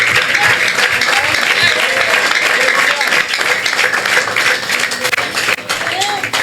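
A church congregation claps hands during worship, a dense continuous patter of many hands filling the room, mixed with voices speaking and calling out among the crowd.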